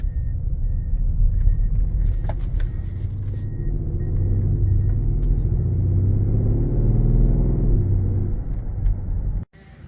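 A 2019 Mercedes-Benz GLE 63 AMG driving, with a steady low engine and road rumble from inside the cabin that swells gently as it accelerates, then cuts off abruptly near the end.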